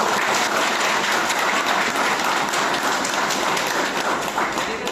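An audience at a meeting in Atmakur claps steadily and loudly, dense applause of many hands sustained evenly throughout with no pauses.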